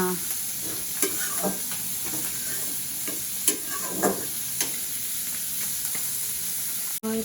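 Kolai greens stir-fry in a hot pan with a steady sizzle, broken every second or so by the scrape and clack of a spatula against the pan.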